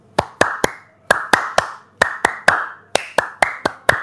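Hands clap in short bursts of two or three sharp, close claps, repeated in a steady rhythm across the span, with nothing else audible between them.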